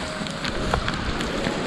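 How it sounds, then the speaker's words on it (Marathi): Monsoon rain falls steadily in a hillside Konkan village at Ambavali, Mandangad, a dense hissing patter with scattered drops, continuous and fairly loud with no voices. "पाऊस कसा पडतोय"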